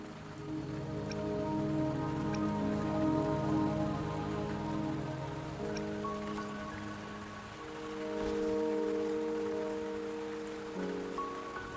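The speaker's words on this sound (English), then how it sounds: "Don't worry, the rain won't last much longer." Rain falls steadily in the video game Wuthering Waves, a soft, continuous patter on surfaces beneath a sustained tonal music bed, with no talk.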